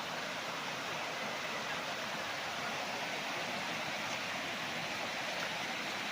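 Steady broadband rush of a river's flowing current at a farm lot in Majayjay, Laguna, continuous and fairly close with no voices over it.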